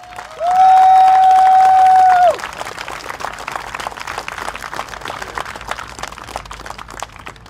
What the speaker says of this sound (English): I would like to ask everybody to give another rousing round of applause for Suraya Akbar, please.